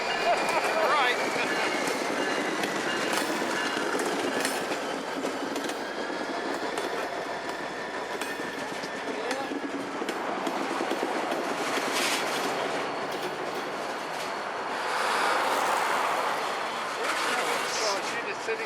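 A BNSF or Union Pacific freight train hauled by SD40-2 locomotives rolls past along Puget Sound, with a steady rumbling roar and rail clatter that swells near the end, while voices talk over it.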